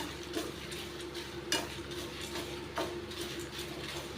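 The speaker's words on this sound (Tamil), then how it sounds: "நல்லா செவக்க கடலைப்பருப்பு நல்லா செவந்து போகிற அளவுக்கு வறுத்துக்கலாம் லோ ஃப்ளேமில் வச்சுட்டு" Chana dal is dry-roasted in a pan over a low flame, with faint scraping and occasional light clicks of a spatula stirring the lentils under a soft, steady background hiss.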